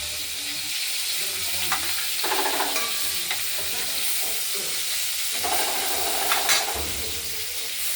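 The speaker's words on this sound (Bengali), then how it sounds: "আলু বিনস দিয়ে দিলাম ভাজা করে" Steady sizzling from potatoes and beans frying in a pan, close and continuous, with occasional stirring scrapes.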